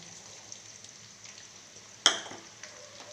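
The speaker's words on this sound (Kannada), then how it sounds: "ಹಾಕಿ ಚೆನ್ನಾಗಿ ಫ್ರೈ ಮಾಡ್ಕೊಳ್ಳಿ." Curry leaves drop into hot oil with a sudden loud crackling sizzle that spikes and fades over about a second, above a faint steady frying hiss.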